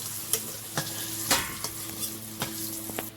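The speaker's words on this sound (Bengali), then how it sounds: "আলুটা ভালো করে ভাজা হয়ে গেছে এখন উঠিয়ে নেব" Potatoes fry in oil in a wok, a steady sizzle broken by several sharp scraping stirs and clinks of the utensil against the pan, close and clear with no voices.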